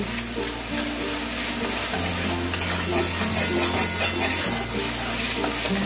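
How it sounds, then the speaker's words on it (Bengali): Spice paste with tomato and salt cooks down in oil for a prawn curry, giving a steady, close sizzle and frying hiss with scraping stir strokes and a low hum underneath, with no talking. "এই মশলাটাকে ভালো করে কষাবো যতক্ষণ না তেল বের হচ্ছে।"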